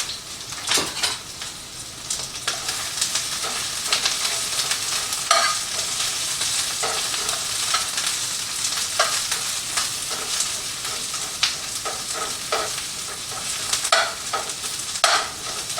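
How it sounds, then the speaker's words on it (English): Onions frying on a burger griddle, a constant bright sizzle broken by repeated spatula scrapes and clinks as they are flipped and broken up, close and steady. "let's go over here and flip my onions"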